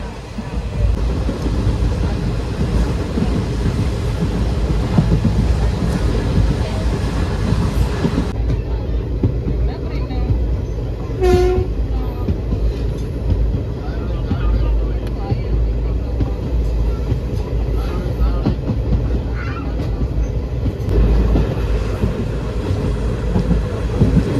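Steady rumble of a moving passenger train heard from inside a carriage on a family trip to Palani, continuous and fairly loud, with a brief tonal whistle or horn partway through and faint voices under the noise.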